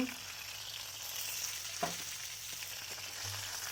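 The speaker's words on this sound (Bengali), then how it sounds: "দেখো লাল লাল করে মাছটা ভেজে নিয়েছি।" Fish shallow-frying in a pan until reddened on both sides, part of a village-style fish curry with radish and brinjal, gives a faint, steady hiss of sizzling oil broken by a few soft clinks and stirs.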